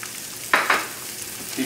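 Egg-coated chicken for a gluten-free Francaise dish sears in a pan with a soft constant sizzle and two brief louder hissing bursts partway through.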